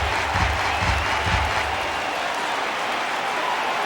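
Baseball stadium crowd of about 23,000 rising to its feet in MLB The Show 18, a broad sustained roar of cheering and applause with a low rumble early on, steady and loud throughout.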